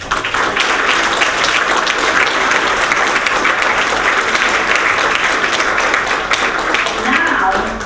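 An audience at a memorial scholarship fund event bursts into sustained, loud applause, dense clapping filling the room evenly from start to finish.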